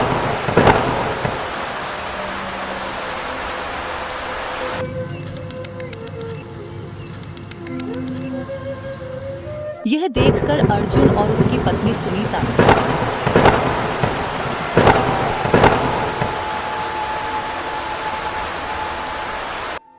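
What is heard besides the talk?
heavy rain with thunder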